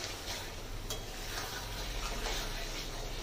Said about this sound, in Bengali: ডিমগুলোকে দিয়ে আলতো করে নেড়ে চেড়ে কষিয়ে নিতে হবে আরেকটু।